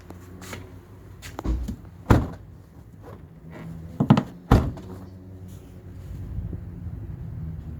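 The boot lid of a Rover 45 with a newly refitted rubber seal is pushed down several times, giving a few dull thunks and heavier thuds with quiet handling noise in between.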